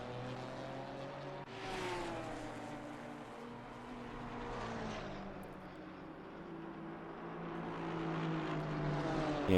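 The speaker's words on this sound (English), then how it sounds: "the BMW GT4 car, it sounds exactly like the M2s that I like racing" A BMW GT4 race car engine in a racing video game at Kyalami drones and shifts pitch as it passes, with a steady harmonic whine rising and falling over a continuous roar; no talking.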